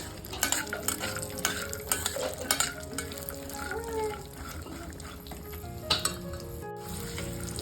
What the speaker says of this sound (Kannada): ಬಾದಾಮನ್ನ ಇವಾಗ ಸ್ವಲ್ಪ ಫ್ರೈ ಮಾಡ್ಕೊತಿದ್ದೀನಿ ನಾನು ಗ್ಯಾಸ್ ಮೀಡಿಯಮ್ ಫ್ಲೇಮಲ್ಲೇ ಇಟ್ಕೊಂಡಿದ್ದೀನಿ